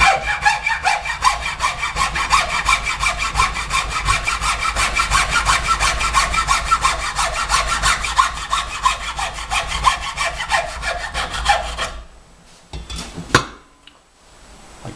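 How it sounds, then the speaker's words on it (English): Hacksaw cutting through a tube clamped in a vise, rapid even back-and-forth strokes rasping loudly and close, then the sawing stops and a few knocks and handling clatters follow. "go over to the vise. Once again, I'm using my hacksaw. I like this because it leaves a cleaner cut."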